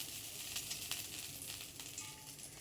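Oil sizzles in a pan while cooking, a faint, continuous hiss and crackle with small pops, heard alone without talk.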